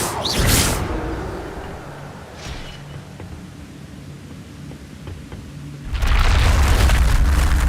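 A spell cast in the video game Hogwarts Legacy, heard as a loud booming burst at the start, then a quieter noisy stretch and another broad roaring surge near the end.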